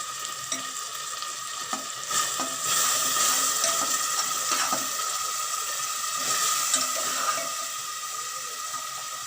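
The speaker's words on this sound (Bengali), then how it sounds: "ভালো করে একটু কষানো হবে।" Spices and masala being sautéed in a pan give a steady close sizzle and fry crackle, with scattered scraping strokes of stirring and no talk.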